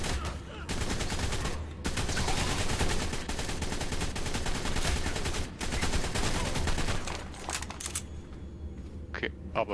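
Dense bursts of rapid gunfire in ARK: Survival Evolved, loud and close, in sustained volleys with short breaks and a few scattered single shots near the end, mixed with players talking.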